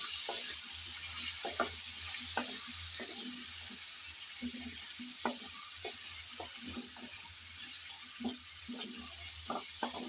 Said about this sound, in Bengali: আমি মূলাগুলো ভেজে নেব।